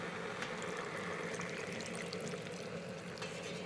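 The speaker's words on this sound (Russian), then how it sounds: "доливаю еще водички." Water pours steadily into a pot of washed dried apricots, a continuous close splashing trickle that runs alone throughout.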